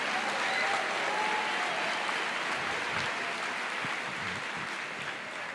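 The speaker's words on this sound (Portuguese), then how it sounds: "Você pode dar uma salva de palmas aí, meu querido, um grito de júbilo." A church congregation applauds and cheers in a steady, loud burst of clapping that fills the room and fades slightly toward the end, with scattered voices mixed in.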